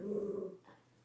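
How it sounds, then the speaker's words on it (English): A female dog reacting to a UPS delivery driver at the door gives a short, close, low growl-like vocal burst lasting about half a second, then fades into quiet room tone. "she's going to bark at the UPS guy"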